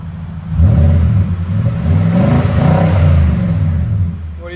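A 2018 Nissan Titan Pro-4X with its 5.6L V8 and Borla Pro XS exhaust revs, rising from quiet into a deep, loud throaty roar that holds for several seconds close by.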